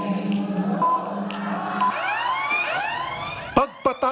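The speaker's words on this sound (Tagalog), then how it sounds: "Pagpatak ng alas 4 ng hapon, umalingaw-ngaw ang sirena." A wailing emergency siren sounds at 4 pm to open an anti-dengue mosquito campaign, its pitch sweeping up and down steadily, with a few sharp loud bursts near the end.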